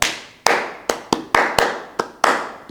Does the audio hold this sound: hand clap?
yes